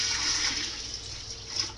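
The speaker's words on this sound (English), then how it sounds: "So I've chosen to do 10 cups of water." Water pours steadily into a cooking pot for Hungarian fish soup (halászlé), a continuous splashing hiss at close range, loud and unbroken, with no talking.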